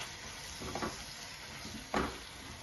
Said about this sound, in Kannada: ಇದನ್ನ ಚೆನ್ನಾಗಿ ಎಣ್ಣೆನಲ್ಲಿ ಹುರ್ಕೊಳ್ಳೋಣ ಫ್ರೆಂಡ್ಸ್